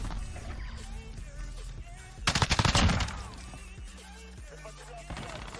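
A burst of rapid SMG fire in Call of Duty Modern Warfare beta gameplay, a loud rattling volley lasting under a second amid game ambience and music.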